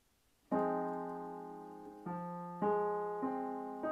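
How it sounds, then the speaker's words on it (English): After a brief quiet moment, a piano plays a minor seventh chord, letting it ring, then strikes several further voicings in steady succession, clear and close. "Third one is minor seven."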